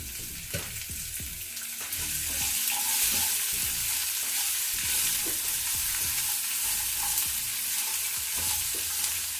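Amla (Indian gooseberry) pieces frying with green chillies in a pan over a low flame for a gooseberry pickle: a steady broadband sizzle with repeated clinks and scrapes of a spoon stirring, close and continuous.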